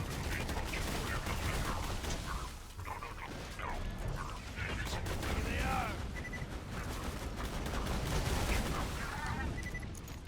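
Automated turret gunfire in the video game Borderlands 2, a continuous rattle of rapid shots mixed with other game effects and busy combat noise throughout.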